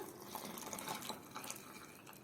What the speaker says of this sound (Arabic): هنزل بقى بالسمنه بتاعتي كده